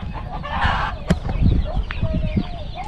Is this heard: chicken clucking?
yes